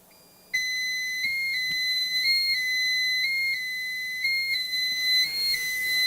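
A Pyronix EURO 46 alarm panel gives off a sustained, high-pitched electronic beep that breaks off briefly several times, heard up close with nothing else going on.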